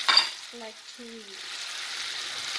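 Shrimp frying in butter in a hot pan, a soft steady sizzle after a brief sharp clatter at the start, with a short voice-like tonal sound early on.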